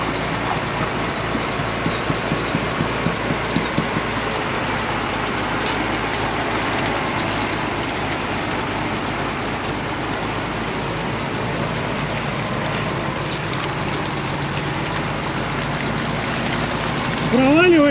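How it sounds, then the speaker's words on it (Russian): A ZIL-157 truck on missile-carrier wheels grinds through churned swamp mud, its engine a loud, continuous rumble with repeated sloshing and clanking over the full stretch. "Вариантов объехать нету, поэтому ЗИЛ едет по самому размешанному."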